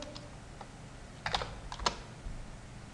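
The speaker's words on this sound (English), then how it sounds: "you can simply type the word here" Someone types on a computer keyboard: quiet scattered keystrokes, then a short cluster of crisp clicks, fairly faint against a soft room hiss.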